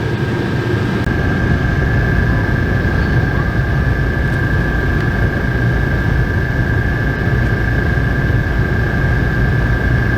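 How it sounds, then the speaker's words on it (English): Air conditioner compressor low on Freon running steadily, a constant loud mechanical drone with a faint high whine, no pauses throughout. "The compressor's even on."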